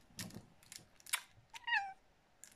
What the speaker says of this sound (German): Da ist meine Katze.